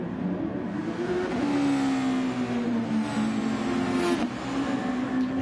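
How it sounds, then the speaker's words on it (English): Super Formula race cars in a racing video game struggle through standing water on a wet Red Bull Ring, engines droning steadily and bogging with a sustained, wavering whine that stays loud throughout. "You can hear these cars bogging down when they're going through the water"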